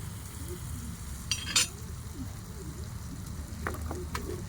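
Low, steady sizzling of lentils cooking with water in a pan, with a few brief metallic clinks and scrapes of a utensil.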